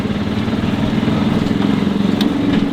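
An auto rickshaw engine runs with a steady, loud mid-pitched rattling drone while the vehicle is driven, close and constant for the whole stretch.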